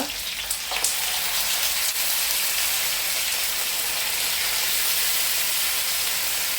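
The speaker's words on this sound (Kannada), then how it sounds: "ಈಗ ಮೀನನ್ನು ಫ್ರೈ ಮಾಡುವ" Fish fillets sizzle steadily in hot oil, a dense, even hiss of frying held close and loud throughout, with a brief crackle near the start and no talking.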